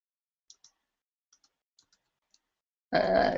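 Computer keyboard typing comes as a few faint, sparse key clicks in near silence, then a person starts talking.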